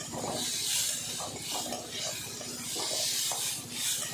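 Lentils frying in mustard oil, a steady soft sizzle and hiss with faint scraping as they are stirred continuously in the pan, close and even throughout while cooking leaves for a meal.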